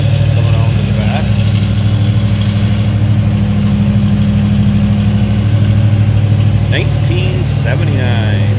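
A 1979 Chevrolet Corvette L48 V8 at high idle after a cold start, a loud steady rumbling idle with even pulses, someone talking over it throughout.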